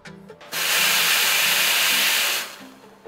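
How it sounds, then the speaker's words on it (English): An espresso machine steam wand steams fresh cold milk in a small jug for a flat white, a loud steady hiss lasting about two seconds before cutting off. "I'm going to put the steam wand straight into the milk."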